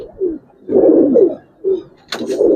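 Giribaz pigeons coo nearby in a steady series of soft, low, throaty phrases with short pauses, plus a brief higher chirp near the end.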